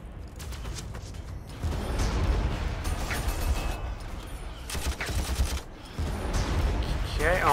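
Dense rattling bursts of gunfire and mechanical clatter from Warhammer 40,000: Armageddon, coming in several waves with short gaps between them.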